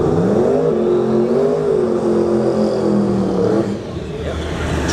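A drag racing car, apparently a turbocharged entry, launches down the strip at a bay-area drag race in Bradenton, its loud engine note rising and sweeping steadily for several seconds before dropping off, with crowd ambience around it.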